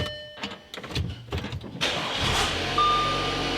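A flood-damaged Audi's engine cranks with several uneven chugging bursts, then catches and settles into a steady, close idle hum.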